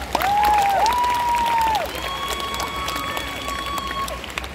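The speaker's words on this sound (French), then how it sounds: "Une dernière main d'applaudissements pour Kimehameha." A crowd applauds at a cosplay show at Japan Expo, a broad rush of clapping and cheering under a loud whistle-like tone and amplified music, with a voice talking over it.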